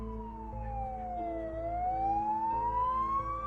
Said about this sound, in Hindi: लेकिन इसी बीच एम्बुलेंस आ जाती है